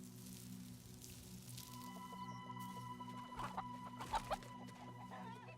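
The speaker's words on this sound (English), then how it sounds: "Be nice to the chicken." Chicken clucking in a domestic scene, a few soft clucks and squawks rising near the end over a steady low hum and faint background noise.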